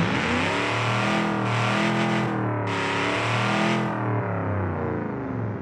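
Supercharged car engine in BeamNG.Drive revving up in a sustained, buzzy, distorted climb, pitch rising steadily, then dropping off near the end; no talk over it.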